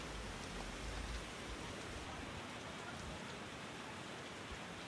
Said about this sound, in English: You can hear the rain and see the lightning from outside the window.